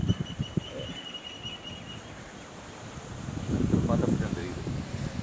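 Strong gusting wind buffets the microphone outdoors, a steady rushing roar that swells louder toward the end, with a faint voice briefly underneath.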